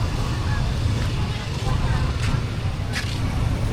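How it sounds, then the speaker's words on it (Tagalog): A motor engine runs with a low, continuous rumble mixed with wind and background noise, steady throughout a few seconds. "ito yung ating motor"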